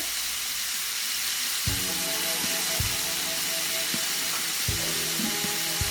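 Minced meat sizzling steadily in a hot pan for hachis parmentier, a constant frying hiss with a few scraping rattles as the pan is shaken partway through.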